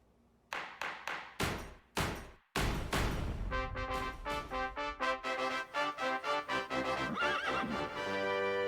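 A horse neighs: a few dull thumps and hoof clops open into a long, loud, quavering whinny with repeated pulses, close and alone with no talk.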